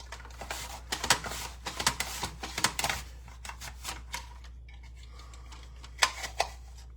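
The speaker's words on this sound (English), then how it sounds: "I'm just pushing down with my center of my palm to get those apple slices out." Apple slices pressed out of a handheld apple slicer: a rapid series of crisp, clicky taps and snaps, close and busy for the first few seconds, then sparser with a couple of sharp knocks toward the end.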